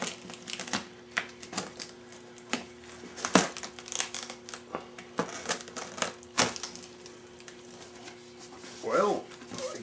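Cutting open a cardboard shipping box holding a Brunswick radio speaker cabinet: irregular scraping, crinkling and sharp tearing noises up close, with a brief voice near the end.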